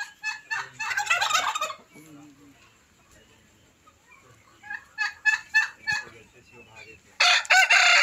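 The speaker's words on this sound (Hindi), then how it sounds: "ये टर्किश है।" Turkeys on a farm in Khed gobble in several rapid, rattling bursts, near and loud, with quieter gaps between calls and a final strong burst; a voice speaks briefly between them.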